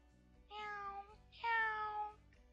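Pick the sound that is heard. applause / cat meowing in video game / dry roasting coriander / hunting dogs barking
cat meowing in video game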